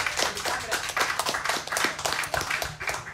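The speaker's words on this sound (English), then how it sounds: "Give me a big round of applause." Audience at a live comedy show in a Secret Garden venue clapping, a round of applause with dense overlapping hand claps, steady and fairly close, with a low hum underneath.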